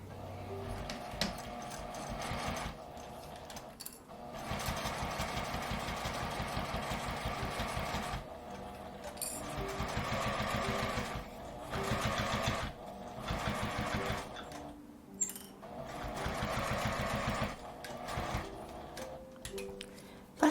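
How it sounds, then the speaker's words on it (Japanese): A sewing machine runs a seam along a quilted pouch made of pressed quilt fabric, in bursts of rapid mechanical stitching broken by short pauses, close and clear with no talk. "端から端まで5ミリくらいの縫い代で縫います。"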